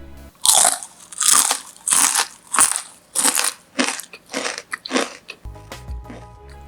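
Crisp lettuce chips bitten and crunched up close, about nine sharp crackling bites in a steady rhythm, each one loud and bright, ending in a faint low hum.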